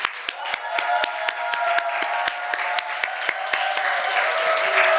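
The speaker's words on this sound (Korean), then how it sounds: "우리 감사하다고 박수 한번 하겠습니다" Congregation clapping at a church revival meeting, a crisp rhythmic beat of sharp unison claps over a bed of scattered applause, close and loud throughout.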